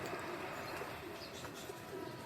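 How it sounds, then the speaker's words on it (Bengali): Pigeons coo softly around a home, a quiet, steady low cooing with faint chirps and no one speaking. "আর কবুতরগুলো না এদিক সেদিক উড়াউড়ি করতেছে"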